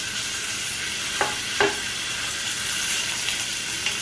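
Thin-sliced chicken hits a pan on medium-high heat and settles into a steady, close sizzle, with a couple of brief stirring scrapes or clatters cutting through the hiss.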